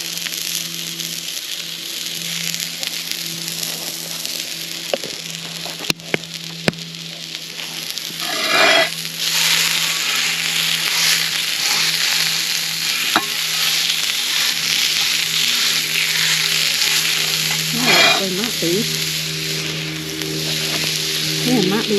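Sausages sizzle in a cast iron pan over a campfire, a steady loud frying hiss with crackles and pops running the whole way, occasional sharp clicks and some brief stirring or shifting noises.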